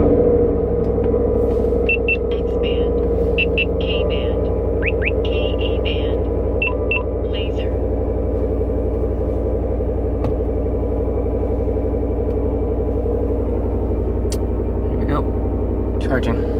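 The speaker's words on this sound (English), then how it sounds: "So let me turn the car on and just make sure." Car engine idling steadily from inside the cabin after start-up, a constant low rumble and hum with faint chirping tones and small clicks over it.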